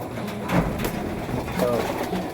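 Racing pigeons kept in a loft give two soft, low coos against faint background noise, one early and one near the end.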